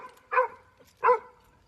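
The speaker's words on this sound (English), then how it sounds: "Why are you barking at me?" A dog gives two short barks, close by and moderately loud, spaced about 0.7 seconds apart. The barks are heard alone with no talking.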